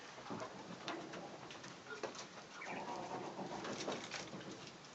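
Several small caged birds kept on a balcony give soft, steady cooing calls for the whole stretch, fairly close, with no talking over them.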